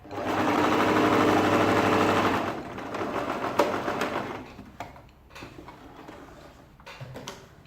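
A sewing machine runs steadily and loudly while stitching a ladies' shirt dress, then stops after about two and a half seconds, followed by scattered clicks and fabric handling noises.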